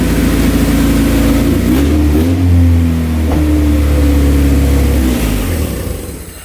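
A car with an open header after an engine swap, revving hard and loud up close, the engine note rising and falling in a couple of sustained pulls before easing off toward the end.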